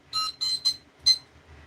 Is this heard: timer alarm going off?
yes